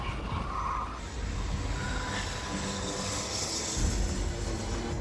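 An 80 mph electric go-kart slides its tires around a track, a steady broad rush of tire scrub and road noise running continuously with a faint high whine throughout.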